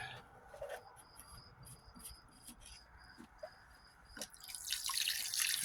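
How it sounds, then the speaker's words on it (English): Water trickles and drips into a squirt bottle being refilled after cleaning out a city culvert, soft intermittent dribbles with faint high insect-like chirps behind and a brief louder splash near the end. "let's get refilled on our squirt bottle"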